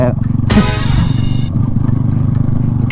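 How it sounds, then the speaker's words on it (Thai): A motorcycle ridden in high gear sputters and chugs with a rough, pulsing engine note, loud and close, with a brief higher whine in the middle. "มันใส่เกียร์ สูง ๆ แล้วมันขี่ลำบากนะ มันจะโดนปุ๊บปุ๊บปุ๊บปุ๊บปุ๊บปุ๊บเหมือนจะดับแลไม่ดับแล"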